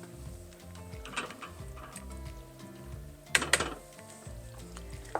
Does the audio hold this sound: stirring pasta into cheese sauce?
yes